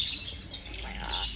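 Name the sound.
parrot squawking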